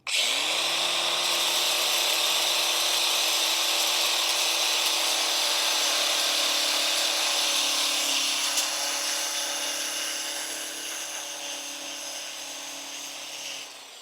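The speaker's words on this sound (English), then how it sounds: "At the same time, I am not putting a lot of pressure on the grinder." A battery-powered grinder spins steadily against a motorcycle brake disc on a Yamaha XJR1300 cafe racer under light pressure, a continuous high whine with a low motor hum that holds even, then eases slightly near the end.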